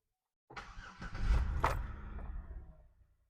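A car engine cranks and catches, rising to a rumbling start before settling and fading, heard nearby with no talking.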